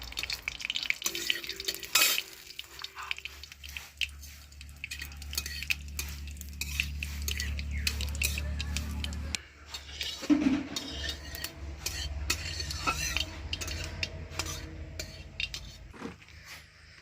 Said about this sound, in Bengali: এবার ফোড়নে দিয়ে দেব সামান্য একটু সর্ষে, আর গোটা শুকনো লঙ্কা।